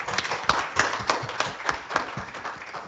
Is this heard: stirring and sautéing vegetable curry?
no